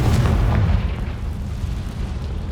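A deep, rumbling boom from a Confringo fire spell explosion in Hogwarts Legacy, one loud blast that fades into a low, rolling tail.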